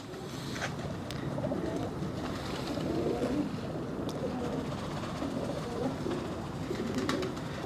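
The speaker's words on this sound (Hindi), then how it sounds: "आइए जी आपको इनके खुडे का सबसे बड़ा कबूतर सबसे पहले दिखाएं जी" Pigeons coo repeatedly in a loft, with soft, low murmuring calls at a moderate distance over a constant background rumble.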